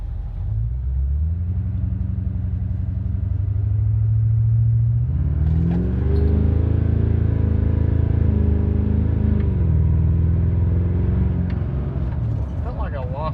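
A Duramax LB7 diesel pickup pulls at wide open throttle, its deep engine drone climbing steadily in pitch, dropping briefly at a gear change, then climbing again from inside the cab, with someone speaking over it.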